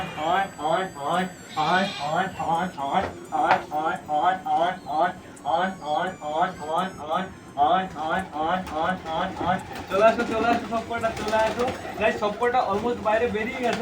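Pigeons coo in steady repeated rounds at a home loft before feeding time, the throaty calls close and continuous throughout, with some bleating-like animal sounds mixed in near the end.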